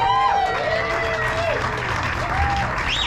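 Audience applause for a band at a live music event, a steady broadband clapping wash with some cheering that runs the full length, mixed with tonal sounds and voices.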